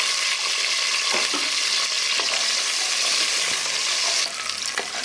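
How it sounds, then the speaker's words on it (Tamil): Onion, garlic and green chilli sizzle in hot oil in a pan for mint pulao, a loud, continuous frying hiss with occasional stirring scrapes close by. "வெங்காயத்தை போடுவோம். பூண்டு சேர்த்துக்குவோம். ஒரு பச்சை மிளகாய் அதையும் சேர்த்துக்குவோம்."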